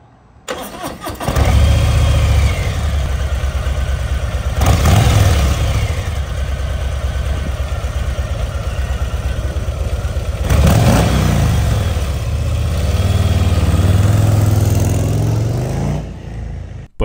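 Harley-Davidson Low Rider ST motorcycle with its stock cam, engine starting and then running steadily at close range, a loud continuous rumble with two brief swells in revs, no talk.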